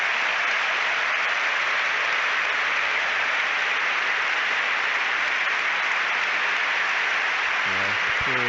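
Steady applause from a stadium crowd at a Premier League football match between Aston Villa and Everton, a broad continuous wash of clapping from the stands held at even loudness throughout, with a brief low voice intruding near the end.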